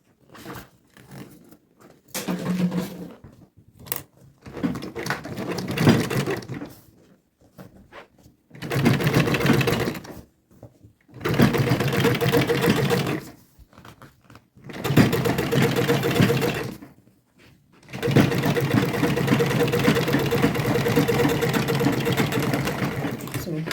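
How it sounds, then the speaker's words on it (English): A sewing machine stitches a quilted tote bag in repeated bursts of steady whirring, separated by pauses, with a person talking between runs. "So I'm going to sew it down like that."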